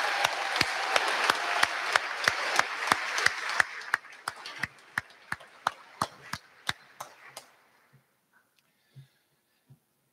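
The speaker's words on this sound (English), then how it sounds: "I think they deserve another clap." Audience applause at a school presentation ball, starting as a dense wash of clapping that thins into a few loud, evenly spaced claps close by before trailing off into scattered last claps.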